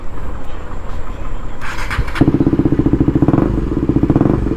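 A KTM Duke 250 BS6 motorcycle on its stock exhaust starts up after a few clunks, then idles close and loud with a fast, even, throbbing pulse.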